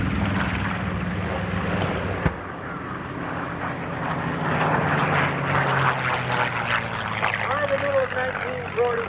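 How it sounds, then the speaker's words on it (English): A North American B-25 Mitchell bomber passes at a 1995 air show in Clark County, Indiana, its piston engines droning loudly and steadily while an announcer's voice talks over the aircraft noise. "Now the Mitchell B-25."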